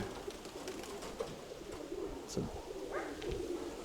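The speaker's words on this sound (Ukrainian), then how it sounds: "Ось пара голубів." Soft cooing from a pair of pigeons drifts in against a rustly outdoor background, with a faint voice murmuring nearby.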